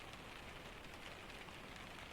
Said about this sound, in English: The rain breathes around the room.